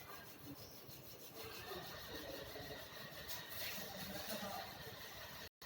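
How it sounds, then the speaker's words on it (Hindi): Two palms rub together briskly during a breathing exercise, giving a steady, close, continuous friction hiss that cuts off abruptly at the end. "उसके बाद दोनों हथेलियों को रगड़िएगा आप लोग।"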